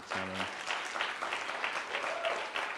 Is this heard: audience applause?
yes